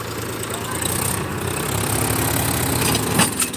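A tractor engine runs at a tractor tug-of-war contest, a continuous low rumbling drone that holds steady with a small surge near the end, with people talking over it.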